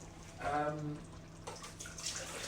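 While cooking, a voice speaks briefly, then water is poured away with a faint, uneven splashing and rushing that trails on in the background.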